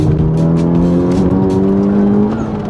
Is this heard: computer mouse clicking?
no